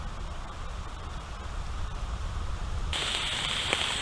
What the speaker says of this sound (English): It's raining good enough to where I had to drop my tarp in order to basically protect things over here.